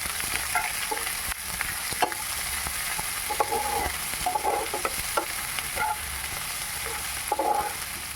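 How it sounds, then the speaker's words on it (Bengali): Two large chopped onions fry in oil in a pan for a rui posto fish curry, a steady close sizzle broken by repeated scrapes and taps of a stirring spoon. "পেঁয়াজটাকে আমি ভালো করে লাল লাল করে ভেজে নেব"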